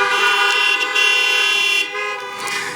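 Many car horns honking together at an outdoor drive-in college commencement ceremony in 2021, a loud sustained chorus of overlapping toots with a brief dip in volume near the end.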